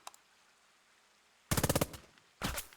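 Gunfire from the World War II tactics video game Burden of Command, with a rapid machine-gun burst of about six close, sharp shots followed by a second short burst after a brief pause.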